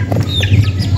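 Young Shamo chicks cluck and peep in quick, bright bursts while being fed rice, close and fairly loud over a low steady hum.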